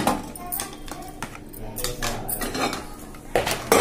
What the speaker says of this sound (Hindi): मैं जो है इसको कुकर में डाल दूंगी